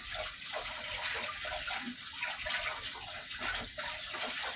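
Tap water runs steadily into a basin as fumbwa leaves are rinsed by hand, a loud continuous gush with faint splashing and occasional hand movements in the stream.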